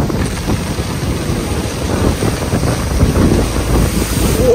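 Sea waves crash against a broken concrete shore, a loud continuous surf roar under heavy wind buffeting on the mic, no speech.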